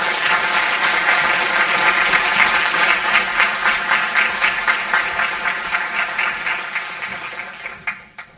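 A conference audience at a debate on Africa's digital economy claps steadily as speakers come on stage, dense sustained applause that thins and fades over the last few seconds.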